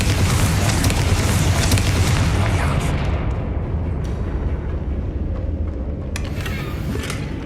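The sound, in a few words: Confringo spell explosion in a video game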